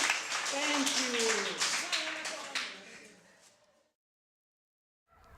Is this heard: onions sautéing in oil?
no